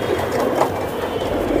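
An aging Giribaz pigeon with slight breathing trouble coos softly and low, its murmur blending into a steady, noisy background with no speech.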